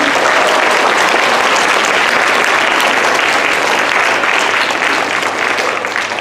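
Loud, sustained applause from the audience at a book launch in Delano, dense clapping close by and steady throughout, with a few voices mixed in.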